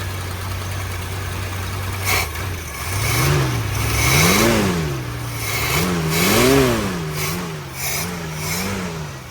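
The engine of a 1965 Ford Falcon with a single-barrel FoMoCo carburetor idles, then revs up and down repeatedly in a series of rising and falling blips. It sounds loud and close, with no talking.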